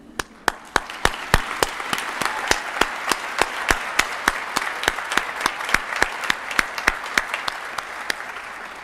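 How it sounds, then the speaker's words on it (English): An audience at a physician assistant white coat ceremony applauds in a large hall, giving rhythmic, steady clapping with sharp regular beats throughout, full and sustained at a fairly loud level. "Proud applause."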